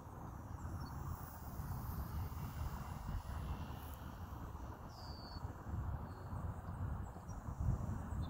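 An RC micro warbird model airplane makes a low pass, its small engine a steady, distant drone held at a fairly even level amid broad outdoor wind noise.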